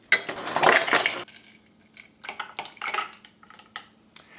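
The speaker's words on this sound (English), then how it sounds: "let me put an ice cube in it" An ice cube dropped into a glass of chocolate protein shake gives a clattering clink at the start, followed by several softer taps and clinks of the glass.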